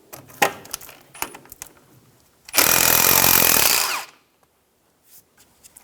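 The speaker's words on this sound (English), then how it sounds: "Using a 10mm socket, remove the bolt for the ABS wire bracket." Power ratchet with a 10mm socket backing out the ABS wire bracket bolt on a 2000-2006 Toyota Tundra front end during wheel seal work, a loud buzzing whir lasting about a second and a half, framed by clinking metal tool sounds.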